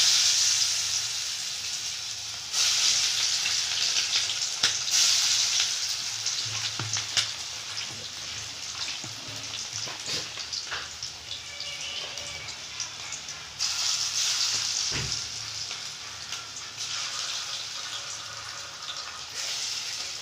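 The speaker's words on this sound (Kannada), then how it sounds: "ನಾನು ಇದನ್ನು ಒಂದೊಂದನ್ನೇ ಬಿಟ್ಕೊಳ್ತೀನಿ ಎಣ್ಣೆಯಲ್ಲಿ" Kebabs frying in hot oil, a steady close sizzle and hiss throughout with occasional crackles and small stirring bumps, no talking.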